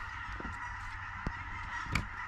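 Geese honk while flying north outdoors, a few sharp distant honks scattered over a steady background hum.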